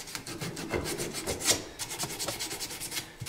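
Light sanding of rough, dried super glue on a wooden take-down longbow, a steady rhythmic scratchy rubbing of close strokes with no talking.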